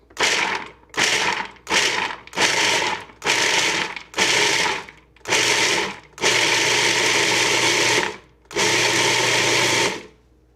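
Walnuts are pulsed in an electric grinder for baking cookies, loud and close, in about seven short whirring bursts followed by two longer sustained runs, with brief silent gaps between them and no talking.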